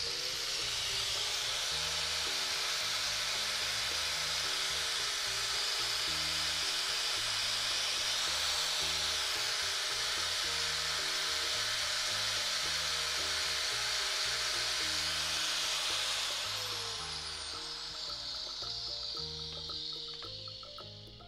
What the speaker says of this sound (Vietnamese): Máy móc hoạt động êm ái nhẹ nhàng, không nhạc khi lửa điện nha nè.